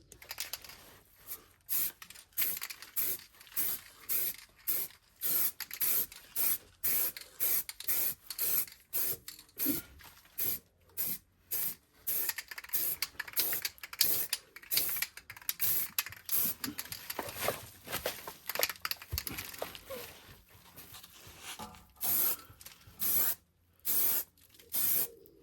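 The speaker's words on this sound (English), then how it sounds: "I'm just going to apply the spray now." Rust treatment sprayed from an aerosol can onto the rear beam axle of a Honda Jazz: repeated short hissing bursts, close and fairly loud, with brief pauses between, continuing steadily throughout.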